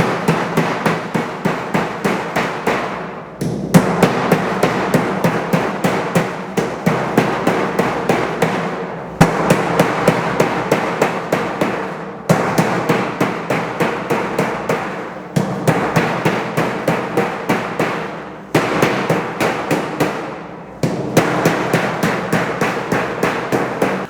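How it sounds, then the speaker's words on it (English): A flat-faced sheet metal hammer beats down a sheet metal seam in fast, loud, ringing metallic blows, each run of strikes separated by short pauses as work moves along the seam. "beat it down like this, or you can put the hammer sideways."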